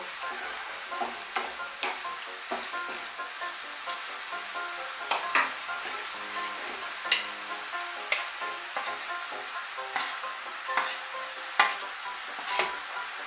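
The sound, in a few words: stirring poppy seed paste into spinach and potatoes in pan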